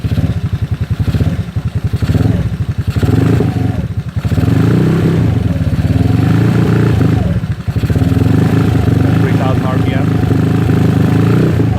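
A GY6 scooter engine idles steadily with a low, rapid pulsing putter and some light mechanical clatter, sustained close by throughout with a brief dip partway; no one speaks over it.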